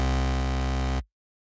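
A dense, buzzing NI Massive synthesizer chord of stacked detuned unison voices spreading wider in stereo holds steady for about a second, then cuts off abruptly into silence.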